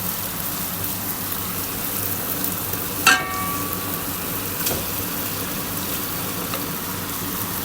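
Marinated chicken sizzles and fries steadily in masala, a constant hissing crackle with one brief clatter of a utensil partway through.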